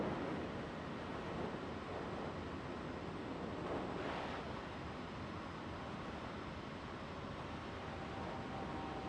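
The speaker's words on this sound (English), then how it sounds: "it quietens the engines down, but it does nothing to the wind noise" Constant roaring wind noise fills the cockpit of a Kodiak 100 in Microsoft Flight Simulator 2020, a broad steady rush with a slight swell midway and no voices.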